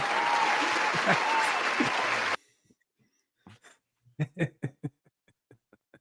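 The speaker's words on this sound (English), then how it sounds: "Here, I'll give myself an applause for that one" A burst of applause plays for about two seconds and then cuts off abruptly, followed by near silence and then a few scattered soft sounds and brief voices.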